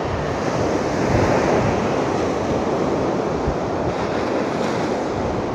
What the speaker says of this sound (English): The tide's all weird at the minute, it's got a bit of a sloppy sea on at the minute